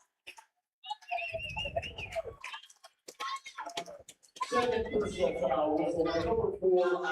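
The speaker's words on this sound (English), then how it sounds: "And a whistle." A referee's whistle at a high school basketball game sounds in a brief shrill blast, surrounded by a commentator's voice and gym noise.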